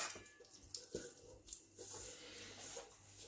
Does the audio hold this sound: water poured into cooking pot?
yes